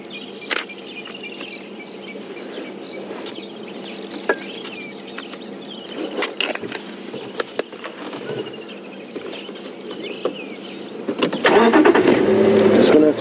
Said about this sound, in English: Just going to have to try and turn the vehicle around